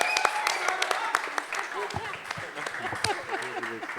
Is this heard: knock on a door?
no